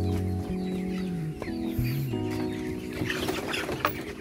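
Several 21-day-old chickens cluck and squawk close by in a busy open-sided coop, with overlapping calls and a low steady hum in the background.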